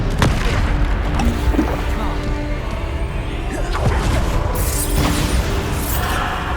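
A spell explosion in the Hogwarts Legacy video game bursts with heavy booms and crashing impacts over a dense, continuous battle din, loud and close throughout with repeated blasts.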